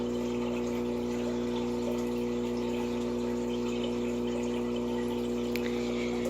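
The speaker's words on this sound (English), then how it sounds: "It is a canister filter for a 100-gallon fish tank." A Cascade 1000 canister filter runs on a 90-gallon fish tank, giving a steady motor hum with trickling, bubbling water throughout, continuous and close.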